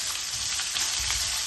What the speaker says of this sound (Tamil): வெங்காயத்தை போட்டு வதக்குறோம்.